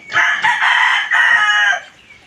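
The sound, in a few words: rooster crowing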